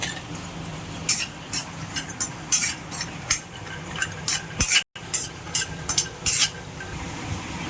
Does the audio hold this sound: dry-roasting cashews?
yes